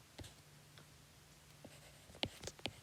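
A pen writes by hand during a quiet lecture, producing scattered faint scratches followed by a few sharper strokes and taps near the end.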